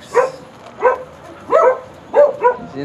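Several dogs barking in short bursts in Cyprus, about five barks spaced roughly half a second apart, fairly close and moderately loud.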